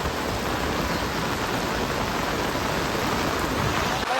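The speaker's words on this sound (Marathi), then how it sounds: "कदा जोरात पाऊस चालू आहे" Heavy rain pours steadily during a downpour on a flooded street in Vasai, with umbrellas out; a loud, continuous wash of rain fills the whole stretch without letup and no talking.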